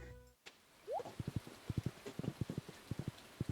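Rain falls steadily in a farming video game, a soft hiss under a string of quick, evenly spaced footstep-like taps as a character runs through a valley.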